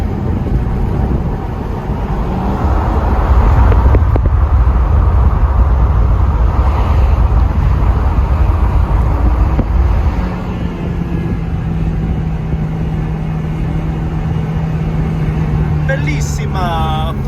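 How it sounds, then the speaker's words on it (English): A Ferrari 360 Modena F1 engine drones and rises through downshifts on an off ramp, heard from inside with the windows down, with wind rush and a steady drone that drops after a gear change. "hopefully I can give you a couple downshifts you'll enjoy here"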